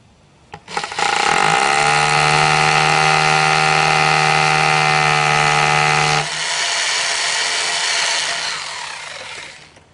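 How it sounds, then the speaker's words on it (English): A power drill bores a 1/4 inch anchor hole while a playground slide is installed: a sharp knock, then a loud steady whir for about five seconds that drops to a lower hum and fades out. "drill that 1/4 inch hole."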